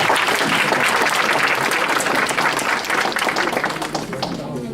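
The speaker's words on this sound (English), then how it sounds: "Another round of applause, ladies and gentlemen." Loud, dense applause from an audience at a Democratic Alliance presidential event, steady clapping filling the space and only easing slightly near the end.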